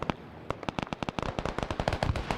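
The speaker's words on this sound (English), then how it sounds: "Good grenade right there, just dropped two" Rapid burst of sharp blasts and crackling pops, dense and continuous like gunfire and explosions, during a night-time Vietnam War combat mission in a video game; no talking.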